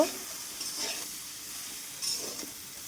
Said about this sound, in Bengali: দিচ্ছি আন্দাজ মতো হলুদ গুঁড়ো মেরে চেড়ে আরেকটু ভেজে নেব